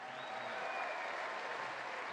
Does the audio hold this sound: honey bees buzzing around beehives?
no